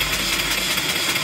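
A mill steam engine fed from a 20-inch boiler drives an alternator, the engine turning slowly at about 100 RPM while the alternator spins near 1,000 RPM, giving a steady broadband mechanical run with no talk.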